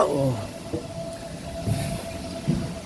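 A train at Hua Lamphong railway station in Bangkok creaks and groans nearby, with squealing wheels, a sustained metallic whine and low rumbling clunks of the railcars, fairly loud against the station's ambience.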